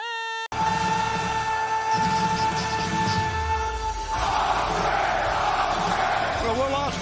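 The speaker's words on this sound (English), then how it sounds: "crowd chant piped in" Piped-in crowd chanting at a pro wrestling event, following a sustained tonal sound, swells into a loud, dense roar of massed voices for the second half, continuing to the end.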